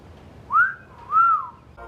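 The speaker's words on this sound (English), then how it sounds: "And Melina even whistles at him when she sees him in the Red Guardian suit." Two rising-and-falling wolf whistles aimed at a man in a Red Guardian superhero suit in the Black Widow film, clear and close, with a short pause between them.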